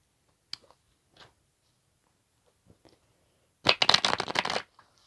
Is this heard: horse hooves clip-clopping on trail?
no